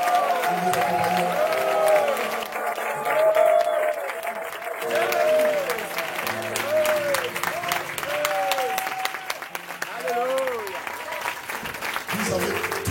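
A church congregation at a French-language seminar applauds and acclaims together, steady clapping mixed with voices and singing-like tones running throughout.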